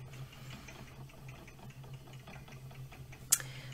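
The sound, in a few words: spinning wheel treadling while spinning yarn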